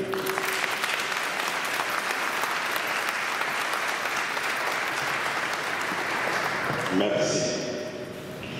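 Sustained crowd applause at a funeral greeting the UDPS representative, steady dense clapping for several seconds before fading, with a voice briefly emerging near the end.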